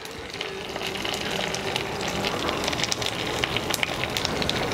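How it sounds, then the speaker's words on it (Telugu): Asafoetida dropped into hot oil for a tempering in a Telugu kitchen, a steady close sizzle with dense crackling and spitting pops that continue throughout, no speech over it. "కొంచెం ఇంగువ వేద్దాం."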